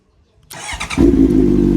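After a moment of quiet, a Honda CB650F motorcycle engine cranks briefly, then catches and settles into a loud, steady idle.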